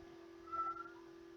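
A cat gives a single short, faint meow indoors over a steady low electrical hum.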